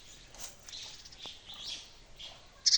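A baby bird found in a village chirps in short, thin, high peeps, scattered and fairly faint over a quiet outdoor background, with one sharper call at the end.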